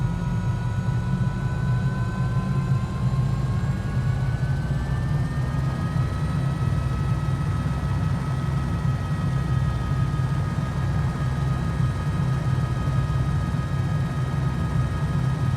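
An aircraft engine in Microsoft Flight Simulator 2020 runs up, giving a steady, loud droning hum with a slowly rising whine layered on top, continuous and close, with no speech.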